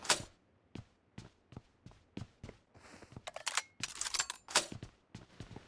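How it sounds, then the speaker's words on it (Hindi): MG3 machine gun reloaded in the PUBG Mobile video game, a close series of sharp mechanical clicks and clacks in an uneven rhythm, each crisp and distinct against quiet gaps. "यहाँ पर मैं अभी MG3 को रिलोड कर लेता हूँ।"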